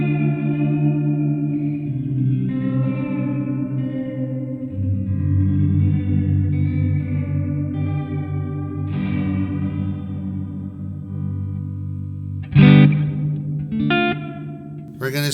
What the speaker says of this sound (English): I reckon this might be one of the more subtle reverbs you'd use